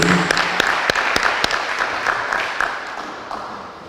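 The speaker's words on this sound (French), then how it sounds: "Si on peut applaudir encore une fois." A conference audience applauds for a few seconds, some sharp claps standing out near the start. The clapping thins and fades as it goes on.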